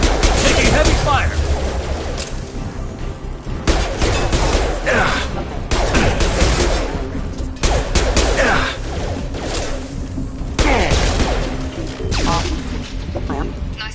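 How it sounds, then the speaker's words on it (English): Heavy gunfire in Crackdown 2 combat, dense bursts of automatic weapon fire and impacts repeating in waves, loud and close, with voices calling out between volleys. "Taking heavy fire!"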